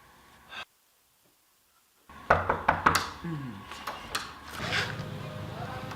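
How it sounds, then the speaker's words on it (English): A door is knocked on from outside: after a moment of near silence, a quick series of sharp, close knocks lands, followed by softer scattered knocks and movement. "Who was that on my door?"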